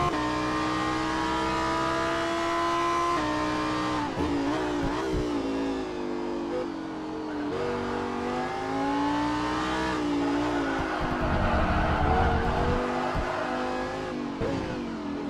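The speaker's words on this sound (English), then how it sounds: "Let's ride with Brian Hall in the number 204 Lamborghini STC." Onboard a Lamborghini Super Trofeo race car at the Long Beach street circuit, the engine roars loudly and continuously, its pitch climbing through upshifts and dropping on downshifts as the car brakes and accelerates through corners.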